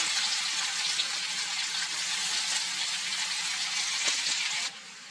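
Finely chopped onion sizzles in hot oil with mustard seeds and cumin, a steady loud hissing fry that drops abruptly to a quieter sizzle near the end.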